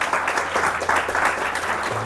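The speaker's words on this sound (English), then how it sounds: "Can we have a big round of applause?" A lecture audience claps and applauds steadily for a couple of seconds, a dense wash of hand claps without pauses.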